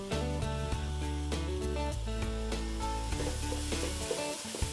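Minced shallots sizzle in hot oil for a Peranakan ayam buah keluak, a steady frying hiss running under background music.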